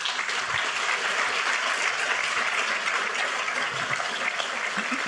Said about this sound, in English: I would like for them to just raise their hands so that you can give them a round of applause.